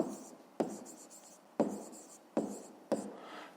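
Pen or pencil writing by hand on paper while noting a maths solution, with five sharp stroke onsets that each fade away, spaced irregularly and heard close up with no talk.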